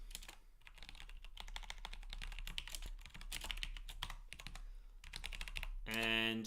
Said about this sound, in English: the typing tonight